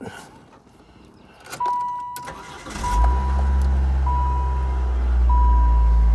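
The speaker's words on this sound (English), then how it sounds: "Fire it up." A car engine cranks and catches, then settles into a steady rumbling idle, accompanied by a repeating warning chime and a few clicks before the start.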